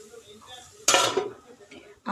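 A metal lid lands on a cooking pot of vegetable curry with bori, giving one loud clatter with a short rattle after it and a small clink near the end, in a home kitchen.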